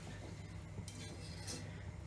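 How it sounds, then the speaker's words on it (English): Quiet stirring of red lentil dhal in a pot, with faint scrapes and a few soft clinks of a utensil against the pot's side. "And so we're just going to stir that in"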